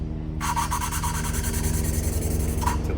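Engine valve lapped against its seat with coarse grinding paste gives a steady, close gritty rasp, rubbing back and forth in quick rhythmic strokes, heard alone without talk.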